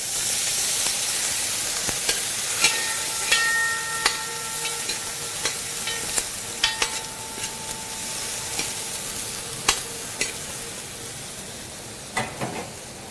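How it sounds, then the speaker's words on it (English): Veg stock poured into a sizzling biryani in a pan gives loud, steady frying and hissing with repeated stirring scrapes and clatters throughout, close up and with no talking. "this thing I am going to add a little bit of veg stock to it"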